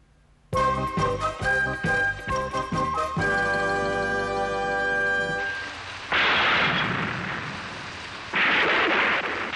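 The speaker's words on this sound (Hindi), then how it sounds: "आज कितनी जोरदार बारिश हो रही है और बिजली गिर रही है" In a Ninja Hatori cartoon, heavy rain and thunder follow a few seconds of bright musical tones: a loud wash of rain noise rises, broken by two strong thunder surges near the end.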